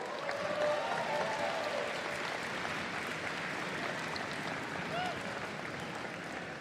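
Audience applause at a robotics competition championship, a steady wash of clapping filling the whole stretch, loud and even with a slight swell near the start.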